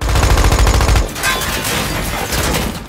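Gunfire from a film scene as a prison camp commandant is shot, a dense burst of loud rapid shots in the first second, then a noisy rushing chaotic din with scattered impacts and no speech.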